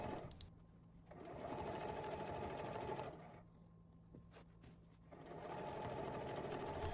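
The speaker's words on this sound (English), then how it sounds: "I want you to listen carefully to the sound of the sewing machine" A sewing machine doing free-motion quilting stitches in steady mechanical runs, stopping briefly and starting again several times, close by with no talking.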